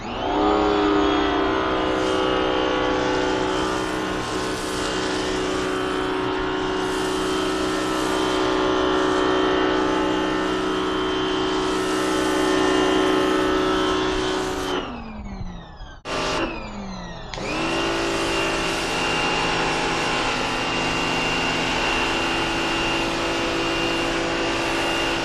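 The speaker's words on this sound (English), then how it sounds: "It's an 1800 PSI power washer." An 1800 PSI power washer snow-foaming a car that is having its Plasti Dip peeled off: a steady, loud motor drone with a strong tone. It cuts out twice in quick succession near the end, then resumes.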